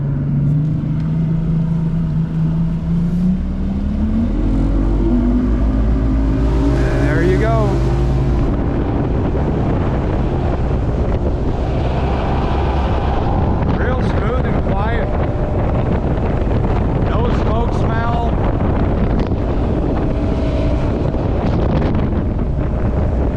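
A 2004 Ranger bass boat with a Mercury 225 outboard runs on the water, the engine's loud continuous roar rising in pitch as it accelerates, buffeted by heavy wind noise, with a voice speaking intermittently.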